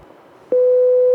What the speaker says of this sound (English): When the same signal is recorded as a 6-bit signal, distortions appear as harmonics.